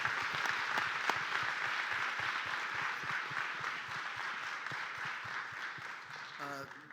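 A meeting audience applauds Mayor Jalen with a full, even round of many hands clapping. The sound holds steady for about seven seconds and tapers slightly at the end, with no talking over it.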